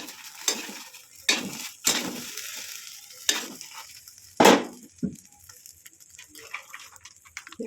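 An egg fries in a pan with a soft sizzle beneath it, broken by a handful of sharp scrapes and taps from a spatula at irregular intervals.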